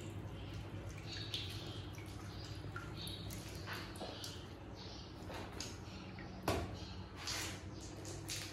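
Wet dough is squeezed by hand in a home kitchen, and water trickles and drips faintly into a pot in soft, irregular splashes, with one sharper splash near the end.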